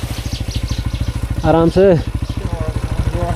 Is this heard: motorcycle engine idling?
yes